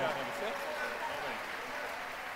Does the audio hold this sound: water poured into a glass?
no